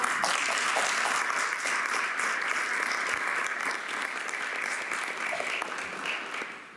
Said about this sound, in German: Mit diesem Applaus verabschieden wir Franziska Menz